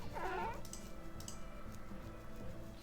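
A summoned kitten in a video game lets out a single short, high meow near the start, followed by faint game ticks and clicks over a low background hum.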